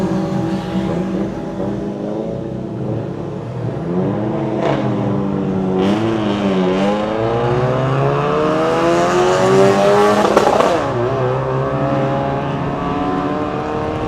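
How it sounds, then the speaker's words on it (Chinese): A 2026 Kia Sportage 1.6 turbo four-cylinder with a 7-speed dual-clutch gearbox, two-wheel drive in sport mode, accelerating up a road toward Genting in Malaysia: a loud engine climbing through rising revs with several upshifts, heard from inside the car. "4缸涡轮增压引擎，177匹马力，265个牛顿米的扭力，配搭这个7速的双离合变速箱"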